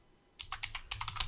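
Quick keystrokes on a computer keyboard follow a brief quiet gap: about eight crisp, close clicks tapped out in an uneven burst.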